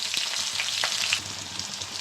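Onion frying in tempering oil with whole spices and peppercorns, a steady close sizzle with faint stirring scrapes throughout, for a Bengali raw-banana fry.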